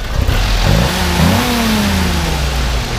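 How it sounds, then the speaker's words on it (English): A 1956 Willys Jeep CJ5 engine revs up, its pitch climbing in a smooth rise and then easing back toward idle, loud and close with no talking. "Go ahead and rev it up."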